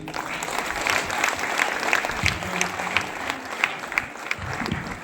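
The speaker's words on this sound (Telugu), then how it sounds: "సార్కి ఒకసారి గట్టి క్లాప్స్." Steady applause from a stage audience for a guest, dense and continuous clapping at close range with a few sharper individual claps standing out.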